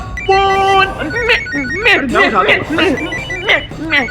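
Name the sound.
telephone ringing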